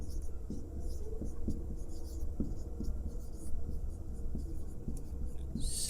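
Pen scratching on paper or board during a physics lesson on concave mirrors, heard as soft, repeated short strokes under a constant low background hum, close and quiet.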